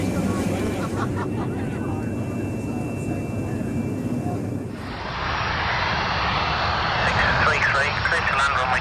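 Airplane engine droning steadily during a landing approach, loud and close throughout, with the tone shifting partway through to a brighter, broader roar.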